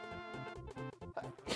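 A single quick sneeze bursts out at the end of a short stretch of voiced sound, brief and fairly close, with a breathy hiss trailing off.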